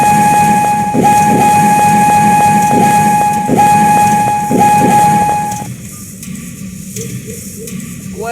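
A Thomas the Tank Engine toy train whistle sounds as a steady, bright tone over a rattling, chugging toy train running on its track, with repeated clicks, then stops as the rattling continues more quietly.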